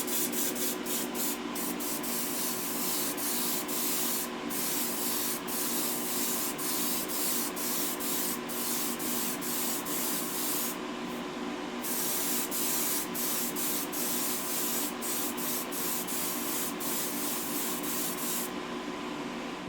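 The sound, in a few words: spray paint can spraying sparkle paint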